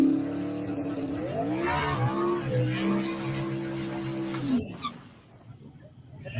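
Race cars play back from a recording, engines revving and whining in rising and falling pitch sweeps for several seconds before fading into background noise.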